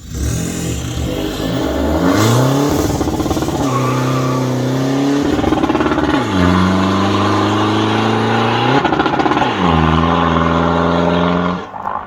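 Remapped 2021 Isuzu D-Max Shark pickup with a single exhaust, a wastegate and a boost gauge, revs hard and loud in repeated rising surges with sharp drops between them, close up with no talking.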